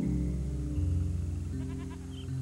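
Sheep bleat in an open field, a few wavering cries layered over a steady, droning music bed, loud and near with no talking.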